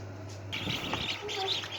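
Newly hatched ducklings chirping in an incubator at home, a brief run of high, thin peeps and tweets coming close together over a steady low hum.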